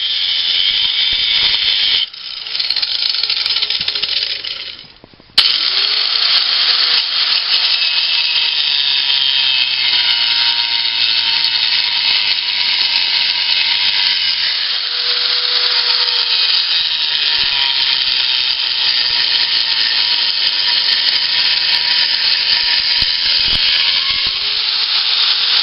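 A cut-off wheel grinds through a cheap alloy pipe with a harsh, continuous high whine, loud and close, briefly dipping before resuming steadily.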